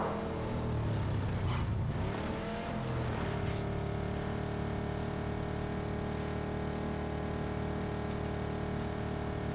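In PUBG Miramar, a car engine approaches and revs, growing louder and rising in pitch as it nears, then settling into a steady drone that holds continuously to the end.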